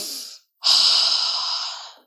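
A person breathes in deeply, standing out in the wind: a short breath, a brief pause, then one long, loud, close-up inhale that slowly fades.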